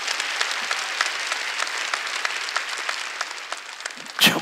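Congregation applause during a Wednesday service at a Korean church, dense, steady clapping throughout, ending with a brief louder burst near the close.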